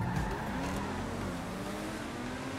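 A car in GTA V Online roars along at speed, its engine droning loudly and continuously with a brief tire squeal near the start, and no voices over it.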